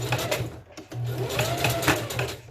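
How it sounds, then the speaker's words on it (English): A sewing machine stitches along a hair weft, its steady mechanical whir running close and loud with short pauses and restarts as it back-stitches over the end. "so we're going to start sewing, and then usually you go back stitch just to ensure you get the end of the hair"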